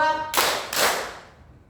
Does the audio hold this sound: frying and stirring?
no